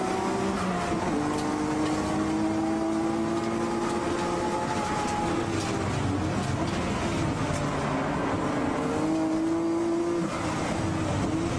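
A time-attack race car at Suzuka, with an R33 over 700 horsepower running just ahead, roars continuously at close range, engine note rising and falling through shifts over a loud, steady drone.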